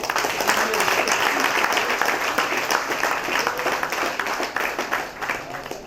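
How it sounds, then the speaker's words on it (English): A crowd at a prison futsal launch event applauds, a sustained dense wash of clapping from many hands that holds steady and tapers slightly toward the end. "they give Barry a clap."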